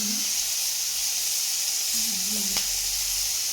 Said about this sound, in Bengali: চিংড়ি মাছটা ভাজা হচ্ছে